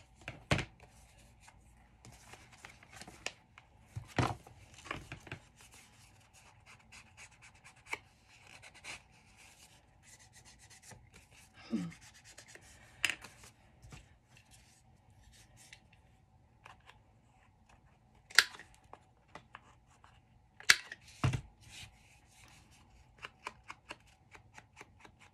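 Scissors snipping and trimming vintage paper ephemera, with faint scattered cuts and paper rustles at close range, sparse and quiet throughout.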